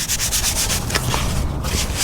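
Steady scuffing and rubbing across a 1993 GMC Sierra truck's interior panel, roughing the surface for adhesion promoter, a continuous close abrasive hiss with small rhythmic strokes throughout.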